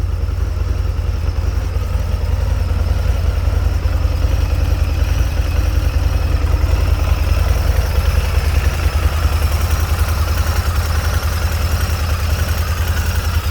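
A stock 2016 Harley-Davidson V-Rod Muscle (VRSCF) motorcycle idles on its factory exhaust, a steady deep low rumble that stays close and even throughout with no talking.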